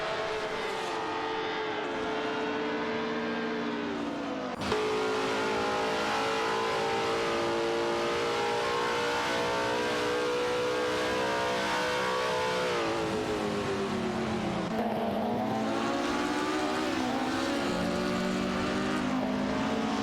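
Race cars in an AI racing video game, a continuous layered engine whine with several cars revving and shifting pitch together, steady and loud with no talking.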